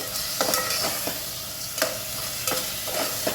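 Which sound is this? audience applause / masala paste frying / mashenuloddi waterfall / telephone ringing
masala paste frying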